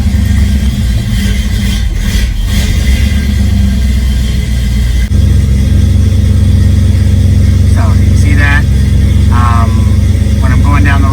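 A 1966 Ford Mustang engine idles with a continuous low rumble, joined by someone talking near the end.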